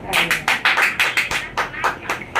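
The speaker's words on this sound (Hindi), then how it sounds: "प्रभु के लिए तालियां" Rhythmic clapping from a congregation at a Christian testimony service, a steady run of bright, evenly spaced claps filling the room.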